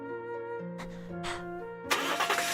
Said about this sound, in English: Starting the engine in a big rush, I slammed on the gas.